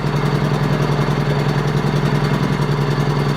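WEN 56200i inverter generator running on choke, not yet in eco mode, a steady mid-pitched engine drone heard close and continuous with no talk.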